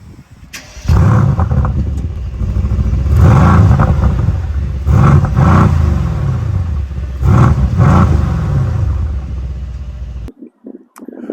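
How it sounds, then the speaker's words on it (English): Mercedes-AMG C63s 4-litre V8 bi-turbo engine firing up, then revving in a series of loud, rising blips that settle back to a deep rumbling idle before cutting off. "the hand-finished AMG V8 bi-turbo engine"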